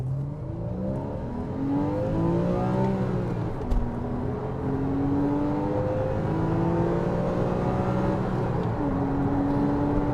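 A Porsche Boxster 2.7 on the road accelerates steadily through the gears, its engine note rising in long sweeps with brief dips at each shift, loud and continuous with no talking.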